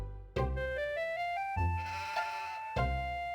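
Sheep bleating in the horror video game Harvester, three distinct synthetic bleats with rising, stepped pitch, each starting abruptly, fairly loud and clear with no talk over them.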